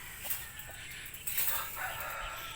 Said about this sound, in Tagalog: Nangingitlog ang isa.